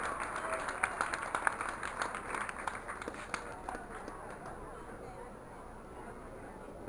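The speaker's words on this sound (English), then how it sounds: "Drake, hear all those folks cheering for you?" A rodeo crowd cheers and claps at a distance, a scattered burst of applause that swells and then fades into a faint murmur.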